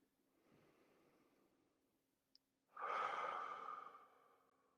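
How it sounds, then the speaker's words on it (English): Deep breathing during a guided relaxation: a soft, drawn-out inhale, a short pause, then a long, loud exhale through the mouth that slowly fades, close and alone without speech. "Exhale through the mouth."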